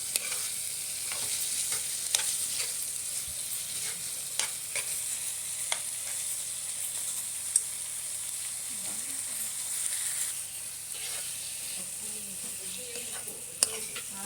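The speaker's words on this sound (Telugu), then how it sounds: "ఇదిగోండి ఇలాగ రొయ్యలు వేగుతుంటే చూడండి, రొయ్యలు బాగా వేగాయి" Prawns fry in a pan with a steady high sizzle, punctuated by occasional sharp pops and crackles, close and continuous, with no talk over it.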